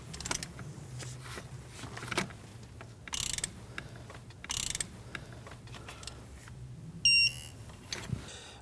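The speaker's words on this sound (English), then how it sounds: "And now we can torque this one." Torque wrench tightening a thermostat housing bolt on a 2011-2016 Kia Optima 2.4L L4, giving a few short, faint mechanical ratchet clicks and brief bursts spread over low background noise, with no talking.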